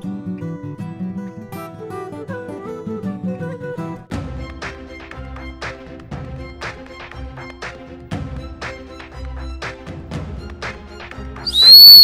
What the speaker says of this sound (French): quand on met un coup de sifflet long, le chien est interpellé par le sifflet